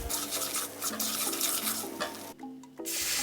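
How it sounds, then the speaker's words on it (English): Water pours steadily into a pot of chicken curry with a rushing, splashing sound, close by, then briefly eases before resuming. "Then we want to add some water."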